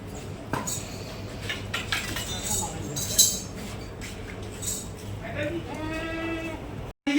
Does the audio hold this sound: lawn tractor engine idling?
no